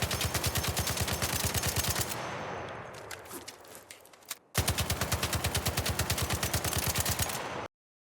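Rapid automatic gunfire from an ARC Raiders weapon fitted with a tier 2 muzzle brake, loud and close, in two sustained bursts of evenly spaced shots separated by a short pause with a fading tail and a brief clatter.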